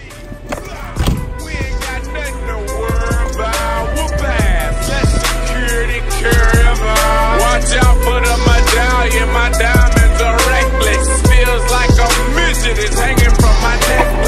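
Riding a Onewheel XR electric board fitted with Fishbones accessories outdoors, a loud continuous rolling rumble from the wheel with a whining electric motor tone and repeated thumps from bumps and cracks in the surface.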